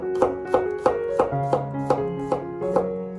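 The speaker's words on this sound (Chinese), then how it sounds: "给它切成蒜片，" A kitchen knife slices garlic cloves on a cutting board, giving seven or eight clean, evenly spaced taps close by over quiet background music.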